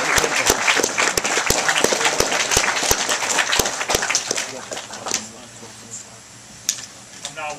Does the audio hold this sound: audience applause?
yes